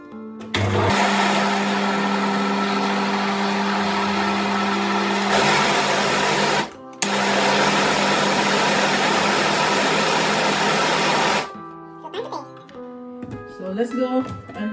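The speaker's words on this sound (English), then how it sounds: "So all blend it up." A kitchen blender whirs loudly and steadily as it purees a strawberry and mango ice cream mixture, pausing briefly midway before running on again, then stopping as a voice and clinks follow.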